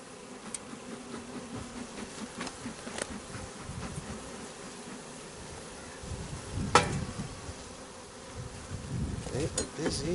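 Honey bees buzz steadily around an open hive during an inspection, a close, continuous low hum with individual bees whizzing past and occasional soft knocks from handling frames.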